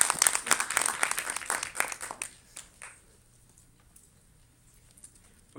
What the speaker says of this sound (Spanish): Démosle un aplauso a Tomás Montes de Oca.